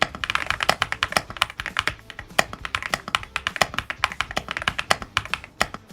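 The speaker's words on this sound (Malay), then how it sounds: "ini adalah sound test dia masa kita typing" Typing on a GOOJODOQ KM003 wireless gasket-mount mechanical keyboard: a steady run of close, crisp keystroke clacks with irregular rhythm and no talking.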